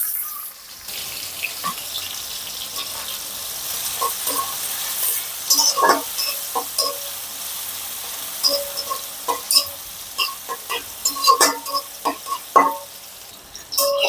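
Chopped onion goes into hot oil with garlic for a young sweet pumpkin bhaji, giving a soft, uneven sizzle with intermittent stirring scrapes and clinks, fairly quiet and close.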